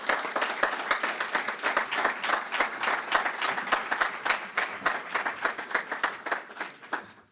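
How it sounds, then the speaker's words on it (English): Sustained audience applause from a crowd at an MLK honoring event, dense steady clapping holding level for several seconds before tapering off at the end, with no talking over it. "Give her a round of applause, please."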